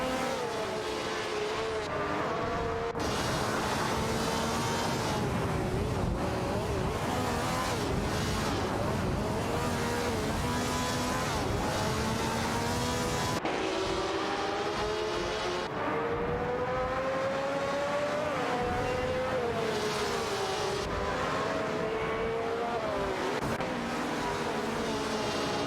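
Race cars roar continuously in an AI racing video game as several engines whine and shift pitch through a close battle. The sound stays loud and layered throughout, with revving rising and falling.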